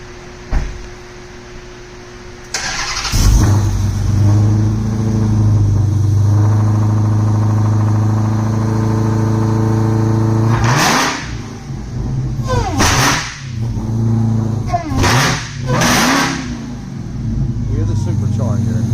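Supercharged Dodge Demon cranking and starting, then settling into a loud close idle with several sharp revving bursts in the second half; a voice is briefly heard.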